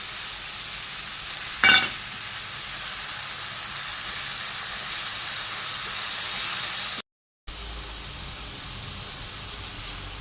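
Ginger paste fried in a pan, giving a broad, steady, close sizzle with one brief clatter near the start and a short dropout toward the end.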